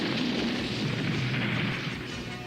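A cartoon explosion destroys an island prison in an animated fantasy adventure, a dense, sustained roaring blast that stays loud and rumbling for the whole stretch before easing slightly at the end.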